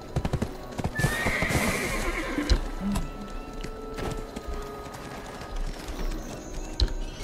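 A horse in the online game Black Desert Online whinnies once near the start, among steady clip-clopping hooves and light mechanical clicks in the game soundscape.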